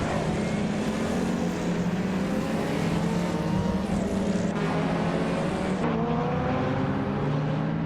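A 1984 Audi Sport Quattro in a racing video game holds a steady, droning engine note that rises and shifts pitch with gear changes, loud and continuous throughout.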